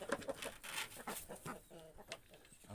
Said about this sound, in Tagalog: top breed na manok.